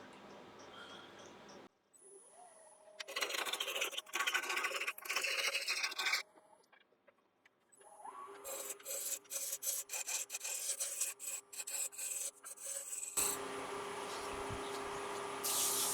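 A scrap log spins on a wood lathe while a 1-inch spindle roughing gouge rounds it down, giving bursts of close, loud rasping and scraping cuts broken by short pauses, with a steady motor hum alone near the end.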